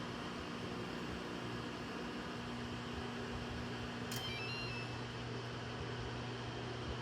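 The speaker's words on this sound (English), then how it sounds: "You're almost about to hear the end cycle." A GE microwave oven hums with a steady, fairly quiet drone, then sounds a short tonal beep partway through to mark the end of its cycle. The hum continues afterward.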